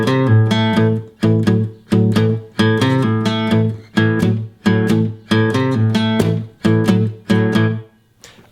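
A 12-string guitar chugs through a blues shuffle, loud and close, in a steady swung rhythm of strummed chord bursts with brief pauses between phrases.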